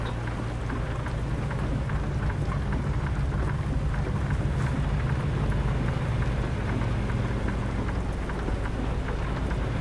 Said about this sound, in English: That rain kind of came up out of nowhere, huh?